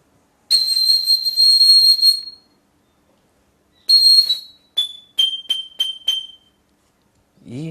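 A natural, unprocessed cane wind instrument plays a bright, high sustained whistle-like note, pauses, sounds again, then gives four short staccato notes, loud and close with silence between phrases.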